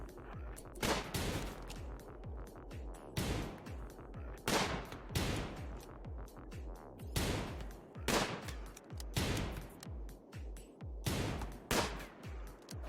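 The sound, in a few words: gunfire in the video game RimWorld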